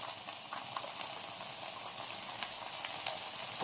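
Garlic sautéing in a pan while preparing a stuffed Christmas turkey, a faint, steady sizzle with occasional soft pops and stirring clicks, no talking.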